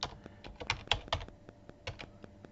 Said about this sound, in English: I'm going to type my text